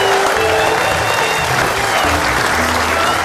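Indonesian TV comedy studio audience clapping, a dense, loud and continuous wash of applause with no break.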